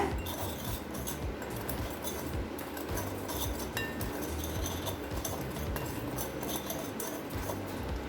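Metal spoon scraping and clinking against a pan while coriander rice is stirred together with boiled taro root, a steady busy clatter of small taps and scrapes at close range, quiet overall and without talk.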